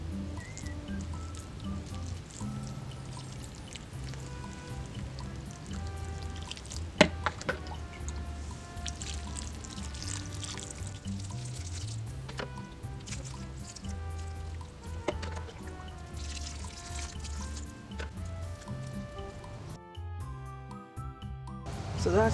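Water is poured over transplanted African spinach seedlings, a steady close patter and dripping that runs unbroken for about twenty seconds with scattered louder splashes and no talking.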